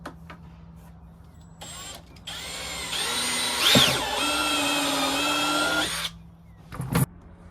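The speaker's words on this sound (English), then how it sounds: "I'm going to drill a hole in the dash for this switch" A power drill bores a hole through a golf cart dash on an EZGO TXT, whining up for a few seconds at close range between short starts and a final brief burst.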